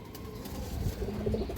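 Pigeon cooing close by, a soft low murmuring coo that runs through the whole brief moment with no voices.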